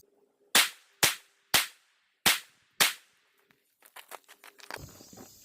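Five sharp pistol shots from a handgun fitted with an RMSC-size red dot sight, evenly spaced about half a second apart at moderate distance, followed by faint rattling and clicking.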